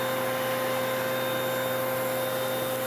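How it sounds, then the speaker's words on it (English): A heavy-duty Electrolux Power Of Red upright vacuum cleaner runs on a hard floor with a soft brush, its motor a steady, loud whirring drone that holds without a break for the full stretch, with no voices. "it is a heavy-duty vacuum cleaner"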